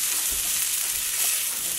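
Duck breast sizzles steadily in a hot pan, a dense, continuous frying hiss with small crackles and a few low bumps, close and fairly loud with no voices.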